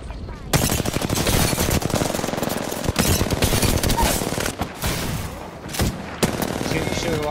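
Rapid, loud automatic gunfire from the video game Apex Legends fills the whole stretch in dense, continuous bursts with only brief gaps.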